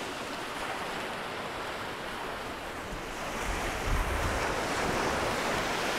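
Surf rolls in on an ocean beach during fishing for Spanish mackerel, a constant wash of breaking waves with wind buffeting the microphone, swelling louder partway through.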